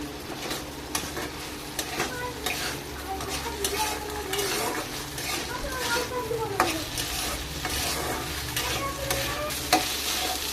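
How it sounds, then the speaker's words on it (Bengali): Raw aromatic rice stir-fried in a pan, giving a steady sizzle broken by repeated scraping strokes of a spatula against the metal, close and continuous throughout. "চালটা দিয়ে খুব ভালো করে কষে নিতে হবে"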